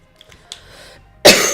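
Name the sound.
cough into the microphone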